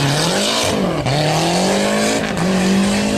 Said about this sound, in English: Beautiful start, just keeping that wheel spin under control